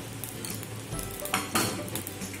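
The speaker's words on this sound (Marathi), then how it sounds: "तडका देण्यासाठी मी 1 चमचा तूप घालते." A spoonful of ghee heats in a pan for a tadka, giving a steady soft sizzle with a couple of brief utensil clinks and stirring scrapes, close and fairly quiet, with no talk.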